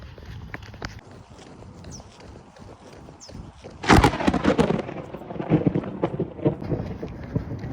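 Thunder rumbles during a summer storm on a morning run-walk, a loud crack-like burst near the middle followed by rolling, lingering rumble over steady background noise.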